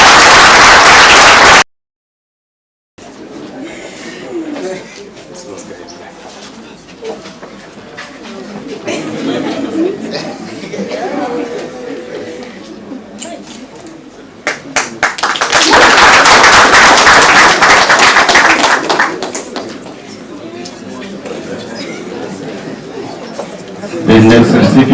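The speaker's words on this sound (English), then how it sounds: "A round of applause to you." Audience applause at a moot court finals ceremony swells into a loud, dense burst of clapping after a stretch of speaking and murmuring in the hall, then fades back toward a voice.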